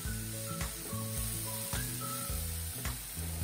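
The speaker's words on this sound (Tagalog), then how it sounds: "Mas lamog na lamog po ang kamatis sa pagkakagisa" Tomatoes sautéing in a pan for tokwa't baboy, a steady close sizzle and hiss of frying with a few soft stirring scrapes, no voices.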